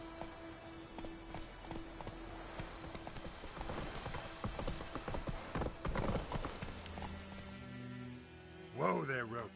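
Hooves of the horse Roach pound in a rapid, steady gallop through the first part of The Witcher game, then slow as the horse is reined in, ending with a brief whinny and voices.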